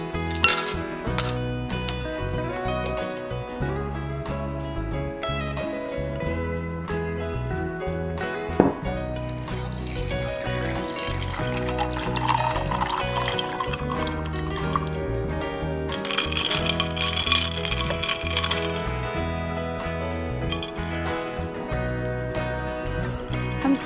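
Ice cubes clink and rattle into a glass of silverberry syrup drink, with repeated bright chinks and some pouring and liquid sloshing throughout, close up and without speech.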